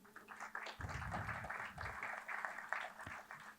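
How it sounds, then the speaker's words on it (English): Seminar audience at a national seminar on digital lending giving a round of applause, fairly faint clapping in a room mixed with some voices. "I now request a huge round of applause from the audience."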